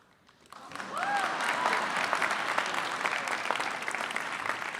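After a quiet start, applause swells from a commencement audience and holds as a dense, steady roar of clapping with faint cheers and whistles mixed in.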